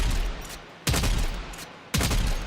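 Burst-fire sniper rifle in the Warframe video game, three loud crisp shot bursts at roughly one-second intervals, each decaying into a reverberant tail.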